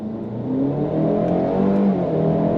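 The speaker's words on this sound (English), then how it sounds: "I'm going to use the paddles on the back of the wheel. And if you're ready, I'm ready. On throttle, here we go." A 2024 Cadillac XT4 compact luxury SUV accelerates under throttle with paddle-shifted gears. Its engine note climbs smoothly and steadily from inside the cabin over a few seconds, with no talking.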